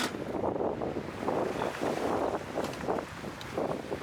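Steady wind gusting across a 35ft sailing yacht at anchor on open water, a continuous close rushing roar with microphone buffeting and faint wave wash, no voices.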